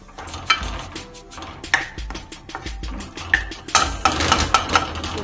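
A spoon or spatula scrapes and knocks in a pan while Schezwan fried rice ingredients are mixed, with irregular clattering strokes that grow busier toward the end, close and fairly loud, with no talking.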